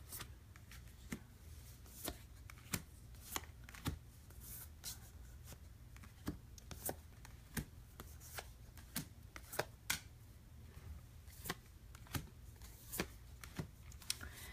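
Tarot cards slapped down and shuffled on a table, soft repeated crisp taps and slides at an irregular rhythm, quiet and close with no talking.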